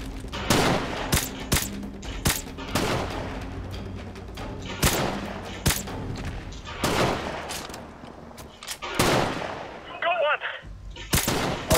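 Sniper rifle fire in Call of Duty Modern Warfare Remastered, with loud sharp shots cracking at irregular intervals amid a dense backdrop of other gunfire and game noise, plus a brief quieter gap near the end.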